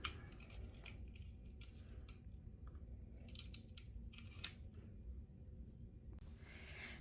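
A utility knife cuts through material during a home renovation, scraping and slicing strokes in short bursts over a steady low rumble, close by with no talking.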